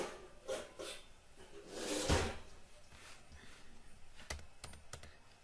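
Keys clacking on a computer keyboard as a command is typed into a Linux terminal, with scattered keystrokes and a louder burst near the middle, fairly close and with no talk over it.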